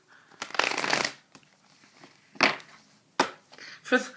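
Tarot cards are shuffled in several quick riffling bursts, close and crisp, separated by short pauses.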